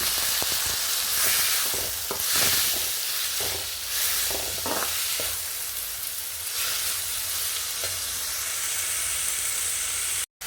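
Onions and tomatoes sautéing in a pan with salt while a soya curry for dosai cooks, a loud, dense hiss of frying with scattered stirring scrapes, close and steady, with no talk.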